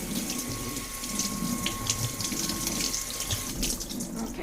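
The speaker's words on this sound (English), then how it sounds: "we're just going to turn on the cold water and just give it a quick rinse" Cold water runs steadily from a kitchen sink faucet over raw sausage being rinsed, a continuous splashing hiss that stays close and fairly loud throughout.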